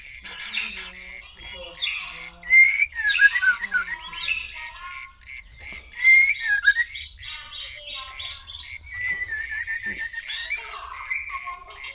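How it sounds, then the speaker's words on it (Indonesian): Several white-rumped shamas of the Bahorok strain sing from a breeding cage after mating, with bright whistled phrases, chirps and trills coming close together in bursts. Faint low background noise sits underneath. "Ternakan murai batu bara asli."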